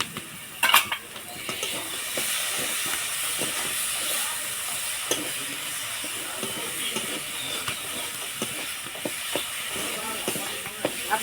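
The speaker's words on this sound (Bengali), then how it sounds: "কেটে রাখা টমেটো দিয়ে দিব এখন।" Chopped tomatoes sizzle and hiss steadily in hot frying spices for a Bengali tangra fish curry, a close, continuous broadband sizzle with scattered soft clicks and scraping stir sounds throughout.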